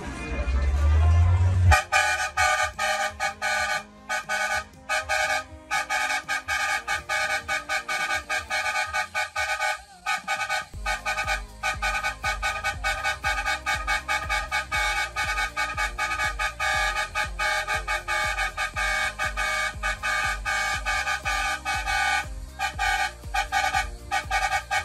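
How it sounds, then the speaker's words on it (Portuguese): Truck and car horns honk steadily at a meet of lowered cars, a dense, loud, sustained tooting with several tones stacked together, broken by brief gaps, with voices talking underneath. "A buzinação?"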